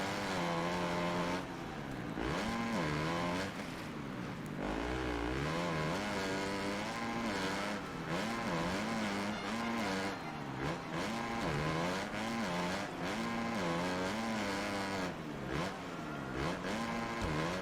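A 125 motocross bike engine in MXGP 2021 revs hard, its buzzing pitch climbing and dropping with gear changes and throttle, loud and continuous from start to finish.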